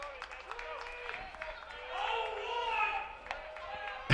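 A baseball crowd at a college conference championship game claps and cheers faintly from a distance in the stands, a light scattered patter that swells slightly midway, with a commentator talking over it.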